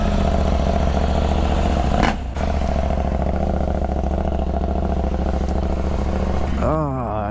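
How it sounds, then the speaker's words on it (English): Husqvarna Norden 901 motorcycle engine running at a steady, loud drone throughout, with a brief dip partway and a voice speaking over it near the end. "take it for a spin and do a first start"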